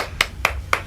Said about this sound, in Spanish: ¿Por qué lo aplauden?